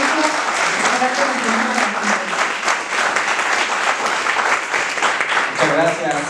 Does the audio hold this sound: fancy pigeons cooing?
no